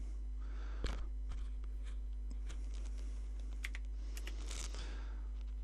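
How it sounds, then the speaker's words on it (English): Keys clack on a Commodore VIC-20 computer keyboard in faint, irregular taps over a steady electrical hum. "Every time you press a key on the keyboard, you'll have a sound coming through the TV or monitor."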